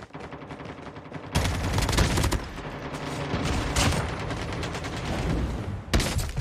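Heavy automatic gunfire in Call of Duty Mobile: after a quieter opening, a loud, continuous volley of rapid shots rattles on for several seconds, briefly stopping near the end before firing starts again.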